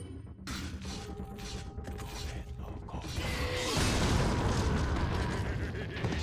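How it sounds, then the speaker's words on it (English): Rocket launcher fired in Resident Evil 4, a mechanical clatter and creak leading into a loud, broad blast at the midpoint that roars and rumbles on to the end. "I'm using my rocket and hoping it kills both."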